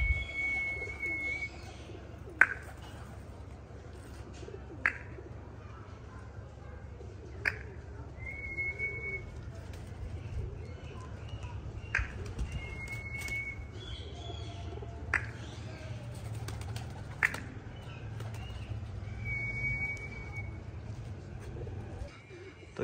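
At a pigeon club, pigeons coo softly with a few brief calls, alongside sharp intermittent clicks over a low steady background hum, moderately distant.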